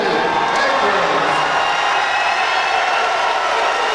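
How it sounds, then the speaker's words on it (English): Arena crowd roaring and cheering as fighter Ollie Edwards, from the Isle of Sheppey, makes his entrance; a dense, loud, sustained wall of voices and whistles with no breaks. "As you can hear, the crowd absolutely going crazy for Ollie Edwards to come in here"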